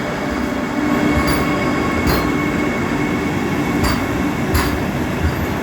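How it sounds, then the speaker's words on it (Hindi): A Vande Bharat express train departs New Jalpaiguri station, a loud continuous rumble of rolling wagons close by with faint wheel squeals and a few sharp clicks over the rail joints. "ये वंदे भारत जा रही है जलपाईगुड़ी से"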